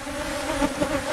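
Honeybees buzzing around an open hive during an inspection, a close, steady droning hum with shifting pitch, heard alone without talk.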